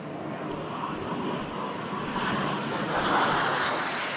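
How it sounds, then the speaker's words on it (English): Meteor and Vampire jet aircraft fly at a seaside carnival airshow, giving a steady, distant jet roar that swells slightly toward the end, with no talk over it. "The Meteor and the Vampire, two very distinctive aircraft from Jet Heritage charitable foundation, based over at Bournemouth International Airport"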